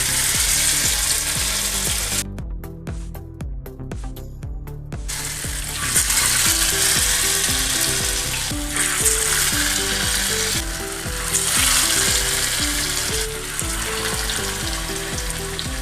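Netholi (anchovy) vadas fry in hot oil, giving a steady, loud, continuous sizzle with tonal background music running underneath the whole time.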